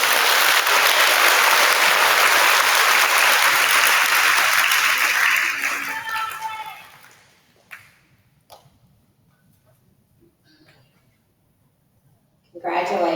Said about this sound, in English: Let's give you one more round of applause.